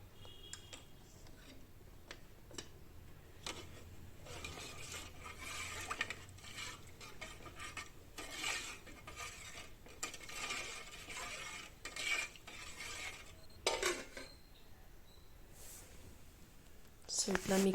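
A spoon stirs salted rice and water in a pot, faint scraping and clinking strokes with occasional sharper metallic taps, quiet and intermittent.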